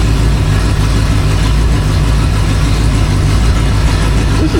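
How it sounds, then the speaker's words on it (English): A rebuilt Ford 289 V8 idles at low RPM on a home-made engine stand, running rich with a loud, close, steady low rumble and an even rapid pulse, uninterrupted by any voice. "Barely even 800 RPM idle."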